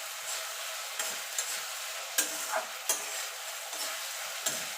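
Onion with ginger and green chili frying and being stirred in a pan, a steady close sizzle broken by several sharp scraping strokes of the spoon.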